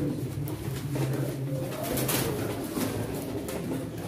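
Pigeons, including white Jumbo pigeons, coo continuously nearby at a pigeon auction, overlapping murmuring calls with a busy flock ambience.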